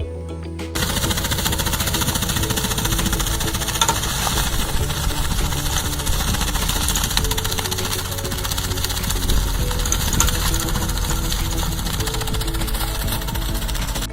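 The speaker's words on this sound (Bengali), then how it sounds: "এই গাছগুলিকে কাটার জন্য এই আধুনিক মেশিন ব্যবহার করা হয়েছে" A modern agricultural machine cuts down trees, giving off a loud, steady mechanical roar with rapid hammering pulses that runs without a break after a brief quiet start.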